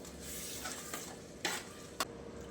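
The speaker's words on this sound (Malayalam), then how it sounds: "തക്കാളിയുടെ പച്ചമണം പോകുന്നിടം വരെ ഇതൊന്ന് വഴറ്റി കൊടുക്കാം" Ground tomato is sautéed in a pan, a quiet continuous sizzle with two brief sharp scrapes of a spoon against the pan, no speech.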